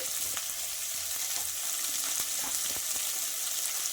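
Onions sizzling in a pan with salt added, a steady close crackling fry with occasional soft stirring taps throughout.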